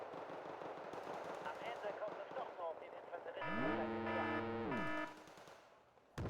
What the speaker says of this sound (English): You can shoot at them.